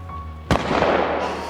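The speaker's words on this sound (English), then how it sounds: "Gunfire rang out." A single sharp gunshot cracks out close by, followed by a short reverberating tail fading over the next second.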